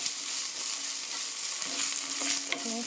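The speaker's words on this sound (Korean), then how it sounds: "고춧가루 하프 테이블 스푼, 반 티스푼 넣어주시고요. 살짝 볶아주세요." Hot pepper powder (gochugaru) stir-fried briefly in a pan for curry chicken, giving a steady close sizzle with scraping stir strokes and a few clinks near the end, no talk.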